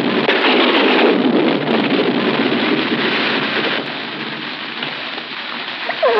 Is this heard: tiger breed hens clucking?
no